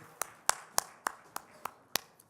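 A single person claps slowly and steadily in a Korean church worship service, about eight sharp, evenly spaced claps over a quiet room.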